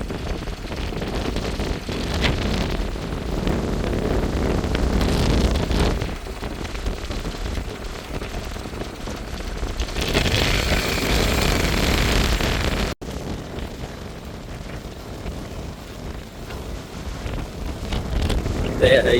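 Strong cyclone wind roars without pause along the Jaffna coast as the sea rises, a dense, loud gusting rush with surging water beneath it and a brief dropout partway through.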